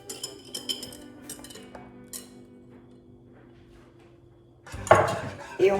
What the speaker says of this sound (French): On reverse le tout dans la casserole.